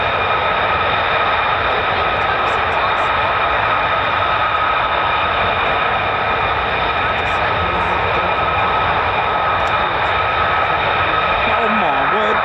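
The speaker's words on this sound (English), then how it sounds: "Carousel of F-35s, look at it." F-35 fighter jets circling at RAF Lakenheath give a loud, steady jet roar with a sustained whine that holds for the whole stretch, while people talk over it now and then.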